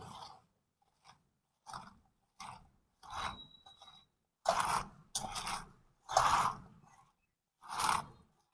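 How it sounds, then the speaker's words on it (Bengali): Water lily stems are mashed by hand with salt, giving a series of wet, crunchy squelching squeezes in irregular bursts, close and fairly loud with short quiet gaps between them. "লবণ দিয়ে খুব ভালো করে একটু চটকে নেবো"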